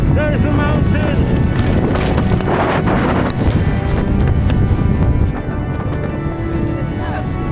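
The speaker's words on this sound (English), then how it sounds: "Where is the wind coming from?" Strong wind buffeting the microphone while cycling in winter Iceland near mountains, a loud continuous roar and rumble that persists throughout with only a slight dip near the end.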